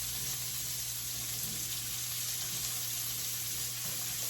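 Liver frying in oil in a skillet gives a steady, close sizzle with a continuous hiss running through the whole stretch and no voices.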